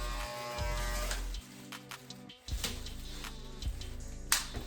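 Electric hair clippers buzz steadily while shaving down a head close-up, the tone switching off briefly a couple of times and returning, with soft scraping as the blades pass over the scalp.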